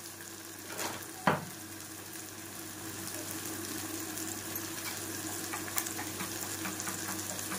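Vegetables roasting in a pan, with eggplant slices and onion, tomato and spices mentioned, give a soft, steady sizzle. It follows a single sharp clatter near the start and stays quiet and even with no talk.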